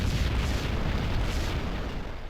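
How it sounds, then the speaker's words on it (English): A facility blowing up in a third-person shooter video game, a dense, loud roaring blast that rumbles on and slowly fades, with no voices. "We make our way out of the facility before it blows to smithereens, an explosion we of course don't look back at."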